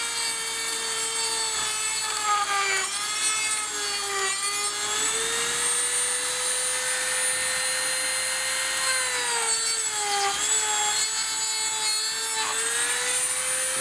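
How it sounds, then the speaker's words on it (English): A Dremel rotary tool cuts through a printed part just under the monitor, giving a steady high-pitched whine that dips slightly in pitch as it bites, close and continuous with no talking. "I'm definitely going to use the Dremel to do that. Maybe I'll take 2 seconds and I'll show you how. But I'm going to make this cut just underneath the monitor."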